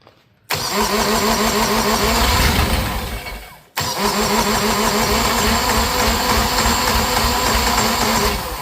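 A Universal M25XP marine diesel engine, salvaged from a scrapyard, cranks loudly in two long bursts of rapid, rhythmic starter chugging, separated by a short pause, close up and with no talk.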